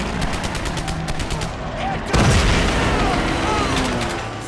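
Rapid automatic gunfire from the World War II shooter Medal of Honor: Pacific Assault at Pearl Harbor, a dense rattle of shots and a heavy boom midway, loud and close with battle noise around it.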